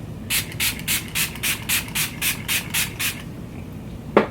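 A rapid series of about a dozen short, evenly spaced spray bursts of Too Faced Hangover 3-in-1 primer and setting spray misted onto a face, close and hissy, followed by a brief pause and a small knock.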